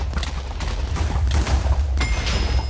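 Gunfire in a Minecraft PVP match, a rapid burst of loud shot-like booms and thuds packed close together over a few seconds, with no talking.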